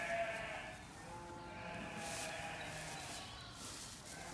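Sheep bleat on a farm during lambing season, a soft, fairly distant wavering call that rises over a low background hum. No one speaks.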